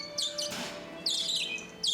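Bourke parakeet chicks chirping in a cage, giving a few short bursts of high, thin peeping calls, fairly close, with gaps of quieter room noise between them.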